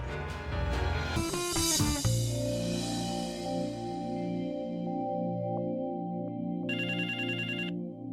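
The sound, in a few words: telephone ringtone ringing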